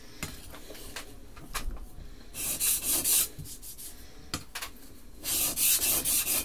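Plane iron from a very rusty vintage Stanley plane sharpened on a stone, with bursts of gritty rubbing strokes alternating with quieter scraping, close and alone with no talk.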